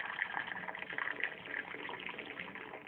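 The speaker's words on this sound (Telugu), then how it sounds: "హాట్ వాటర్ నింపాలి" Hot water poured into a cup for tea, a steady close-up liquid stream with a gurgling, filling quality that runs continuously without a break, no voices.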